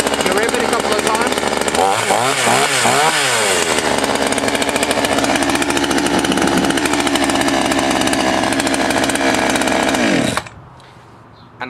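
A chainsaw engine runs loud and steady throughout, with a few sharp revs near the start, then cuts out abruptly, leaving near silence at the end.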